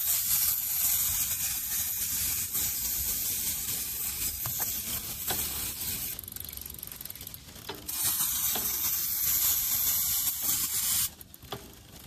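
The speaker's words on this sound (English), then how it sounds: "I'm going to use my White Lightning degreaser and I'm just going to spray" White Lightning degreaser sprayed onto a bicycle chain: a steady close hiss of aerosol spray lasting most of the stretch, with a few light clicks of the chain and a pause near the end.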